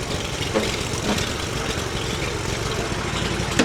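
A Toro Z Master zero-turn mower engine idles steadily with its throttle stuck at the low setting, giving a continuous close, rough low rumble with no talk.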